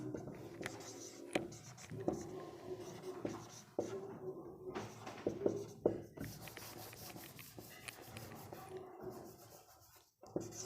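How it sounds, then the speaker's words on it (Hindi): Pen writing out a memory trick for tribal folk dances, scratching across paper in short strokes and strokes of varied length, close and moderately loud, with faint talk intermittently underneath. "यानी आप ट्रिक इसमें लिख सकते हैं रीना बिमला,"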